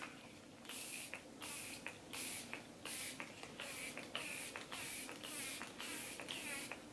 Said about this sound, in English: Favorite setting spray of life.